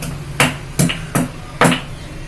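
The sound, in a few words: pounding ginger to crush it for masala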